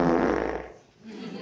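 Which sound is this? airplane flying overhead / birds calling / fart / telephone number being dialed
fart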